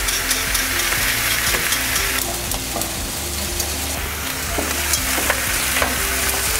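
Beef cheeks sear in a cast iron pan, giving a loud, continuous sizzle with crackling spatter, joined by a low steady hum beneath it.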